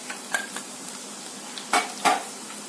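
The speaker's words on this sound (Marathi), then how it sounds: "थोडासा हिंग फोडणी" Asafoetida tempering in hot oil with reddened garlic, cloves and black pepper for a traditional Khandeshi pickle: a soft steady sizzle under a few sharp spoon-and-pan clinks, two louder knocks near the end.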